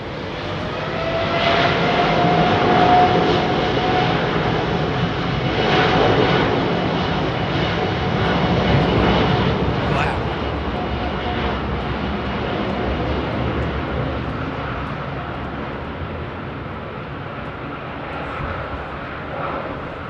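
A jet airliner departing London Heathrow Airport on a windy day: a loud, broad engine roar that swells early, then holds and slowly fades into the distance over about twenty seconds, with no talking.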